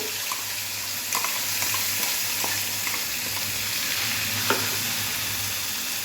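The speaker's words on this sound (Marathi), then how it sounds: "एक दोन मिनिट आपल्याला हे वांगी परतून घ्यायची आहेत" Brinjals sauté in a pan with ground masala for a traditional village salted brinjal dish, giving a continuous close sizzle with occasional scrapes and clicks of stirring, with no one talking.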